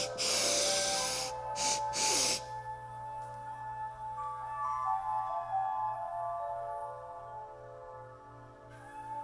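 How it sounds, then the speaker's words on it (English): Sharp, forceful inhales through the nose during a breathing exercise, several quick breaths in a row, loud and close, followed by calm sustained tones with no talking. "Inhale, inhale, inhale, inhale, inhale."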